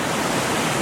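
Waterfall in the Smoky Mountains heard up close, a loud, steady, broadband rush of falling water with no voices over it.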